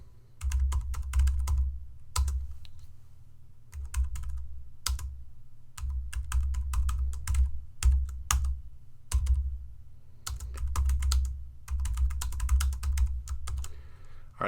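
Computer keyboard typing in quick bursts of close, crisp key clicks separated by short pauses, with no voices over it.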